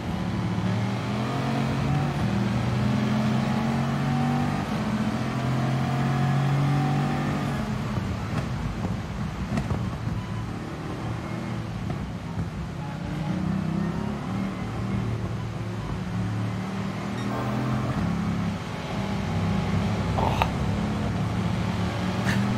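Race car engine in GT Sport, a steady loud drone that dips under braking and builds again under acceleration, running continuously with faint talk in places.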